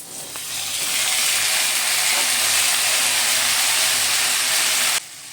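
Boiled carrot and beetroot drop into a frying pan with browned ginger, bursting into a loud, steady sizzle that holds for several seconds before cutting off abruptly, close up with no voices.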